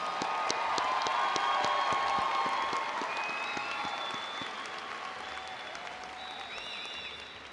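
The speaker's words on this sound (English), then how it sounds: "Let's give another huge round of applause to all of our class of 2022 graduates." Sustained applause from a university commencement audience celebrating spring 2022 science graduates, dense steady clapping filling the hall and slowly tapering, with scattered cheers and whistles on top.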